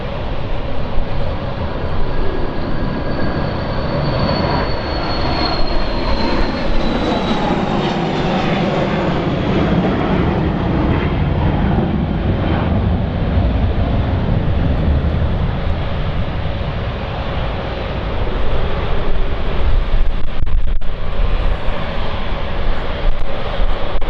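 Passenger jets landing at London City Airport, a loud continuous engine roar and rushing whine that stays close and steady throughout, swelling slightly near the end, with no talk over it.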